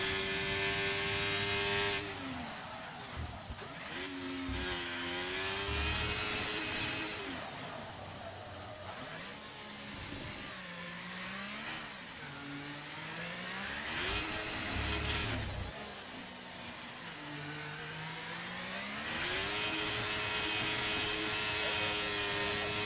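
Ferrari Formula 1 car engine in a wet-track sim racing league session in Mexico, a loud high-pitched revving whine rising and falling through gear shifts as it exits the final corner, continuous and close.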